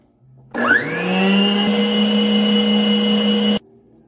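Electric blender beating chilled 20% fat cream, switching on with a rising whine that settles into a loud, steady motor drone for about three seconds before cutting off abruptly.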